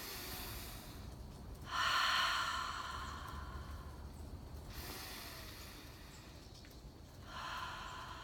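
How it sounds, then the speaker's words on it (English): A slow, deep breath drawn in and let out, loud and close, followed by a second breath starting near the end, with quiet room noise in between. "Let's take a deep breath."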